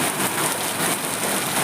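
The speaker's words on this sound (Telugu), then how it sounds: "కొత్త వర్షం చల్లబడితే బాగుంది" Steady rain pours down in hot weather, a dense, even hiss of drops on surfaces with no pauses and no voices.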